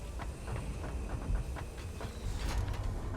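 A freight train in the factory-building game Satisfactory rolls along with steady rumbling and faint rhythmic clacking, plus occasional hissing bursts, continuous and moderately loud with no talking.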